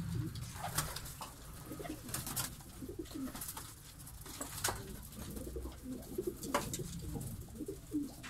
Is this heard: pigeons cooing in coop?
yes